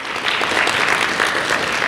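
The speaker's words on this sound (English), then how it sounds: "another round of applause for Joni and our administrators for all their support" Applause from an audience at a fall community gathering, thanking an organizer and administrators, a steady, dense patter of many hands clapping that fills the room without any talk.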